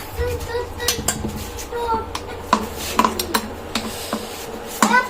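A spoon scrapes and stirs in a pot while cooking, clinking against the metal in irregular knocks and rubs close by, with talking mixed in.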